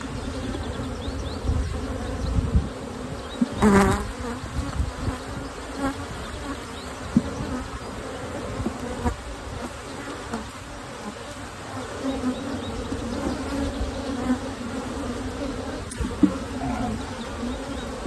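Honey bees swarm around opened hive frames full of brood while a nuc is expanded, a dense, continuous buzzing close by with a few louder passes near the microphone and no speech.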